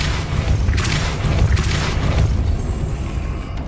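A Depulso spell cast in Hogwarts Legacy lands as a loud booming blast with a deep rumbling body and a few bright crackling bursts, then settles into a fading roar.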